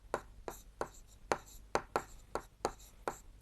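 Pencil drawn along a ruler in quick repeated strokes, about a dozen short scratchy rasps at a steady rhythm, close and fairly quiet, tracing a line on paper for a geometry exercise.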